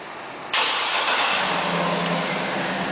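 A 2009 GMC Yukon Denali SUV engine, started by remote start, cranks and catches abruptly, then settles into a steady, fairly loud idle nearby with no voices.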